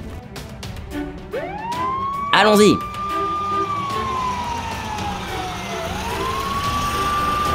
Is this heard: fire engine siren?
yes